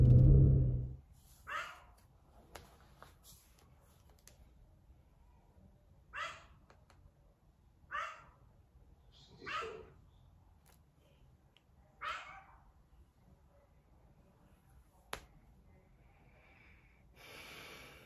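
A small dog indoors gives a series of short, snorting barks spaced several seconds apart, fairly faint against a quiet room.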